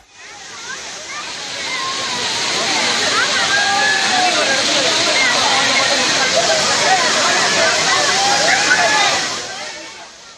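The Agasthiyar waterfall near Courtallam pours down in a loud, continuous roar of falling water, with voices of people mixed in over the rushing noise.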